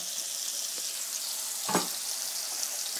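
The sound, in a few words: pork chops and mushrooms sizzling in a pan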